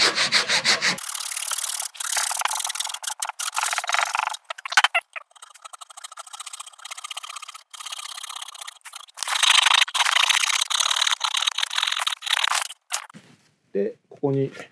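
A hand saw cuts wood for a chasing scarf joint in basic carpentry work, rasping strokes running close and loud in bursts with short pauses, and a brief knock near the end.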